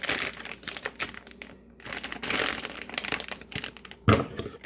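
A plastic Ziploc bag of shredded cheese rustles and crinkles up close in a kitchen, with busy irregular crackling, a short lull, and a sharper crunch near the end. No one speaks.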